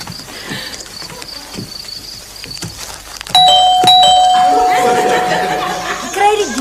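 A doorbell chimes sharply a couple of times over a soft background, followed by lingering ringing tones and some nearby voices.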